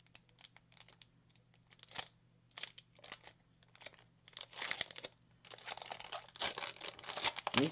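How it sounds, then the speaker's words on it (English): Dollar Tree Pokémon booster packs are torn open and their cards shuffled, giving quiet, close crinkling and ripping foil and card rustles in intermittent bursts that grow busier toward the end. "These packs are opening up so nicely."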